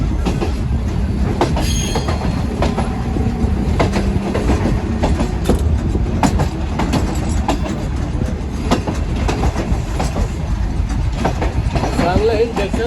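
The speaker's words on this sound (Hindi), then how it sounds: "तो फिर सांगला हिल आ चुका है, प्लेटफॉर्म पर पहुंच गई हमारी ट्रेन।" Shalimar Express passenger train pulling into Sangla Hill Junction platform, a steady loud rumble of rolling wheels and carriage clatter throughout, with a faint squeal near the start and muffled voices under the noise.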